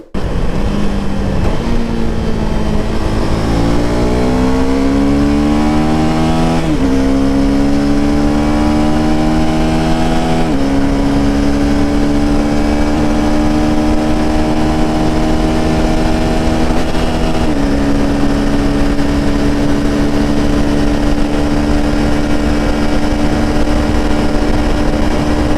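A 2025 KTM Adventure 390 motorcycle engine revs close up, climbing in rising pitch sweeps over the first several seconds, then holds a steady, loud drone at a raised idle with no voices.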